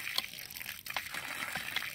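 Water from a hand-pumped well splashing and trickling steadily, close by and fairly quiet, with no talking.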